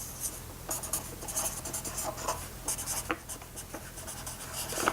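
Handwriting during a piano and ballet rhythm class, with quick scratchy pen or chalk strokes coming in short irregular bursts and pauses, close and fairly quiet with no talking.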